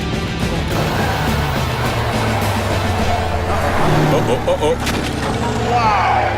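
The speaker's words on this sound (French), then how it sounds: "On commence à freiner." A 2011 Chevrolet Silverado HD pickup brakes hard during a brake fade test, giving a loud, steady roar of road and tire noise with a brief squeal near the end as a voice exclaims.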